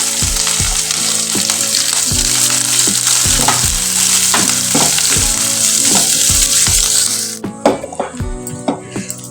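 Onions and curry leaves fry hard in hot oil for a Telugu bottle gourd curry, making a loud, continuous sizzle. Rhythmic spatula taps and scrapes against the pan run through it, and the sizzle drops away near the end as stirring knocks continue.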